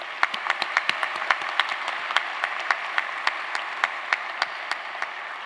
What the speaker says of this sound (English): Let's have a round of applause for those loved ones as well.